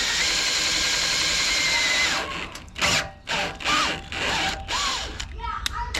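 Power drill with a quarter-inch bit cutting through thin metal on a Pontiac Firebird, a steady high whine for about two seconds, then choppy short bursts as the bit bites and stops.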